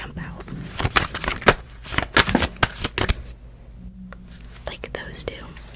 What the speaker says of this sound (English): I'm going to take my thumb and swipe. And I do that very quickly until cards jump out.